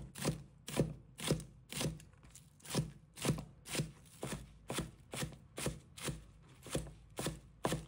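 Spring onions being chopped with a knife for a minced-meat dish, a steady run of sharp, close knife taps on a board, roughly two per second, with no talking.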